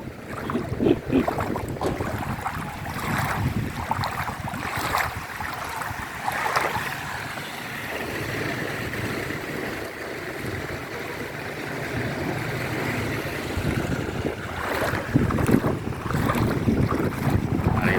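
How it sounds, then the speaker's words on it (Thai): Steady sloshing water and wind rush come from a boat being paddled through floodwater in front of the Wat Si Pradu temple. The sound stays continuous and fairly close, with no talking. "พายเรือ"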